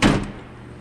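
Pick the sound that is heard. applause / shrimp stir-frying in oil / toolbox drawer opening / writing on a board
toolbox drawer opening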